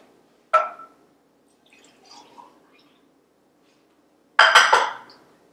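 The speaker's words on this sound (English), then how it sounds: "I pre-measured and warmed up 1 cup of the almond milk. I'm going to pour this in here." Warmed almond milk is poured into a milk frother, a splashing burst at the start and a louder, longer pouring splash near the end, with a faint clink in between.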